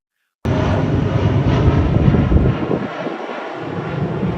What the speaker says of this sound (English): a small plane lifted off from Uruguay, South America, carrying 45 souls bound for Santiago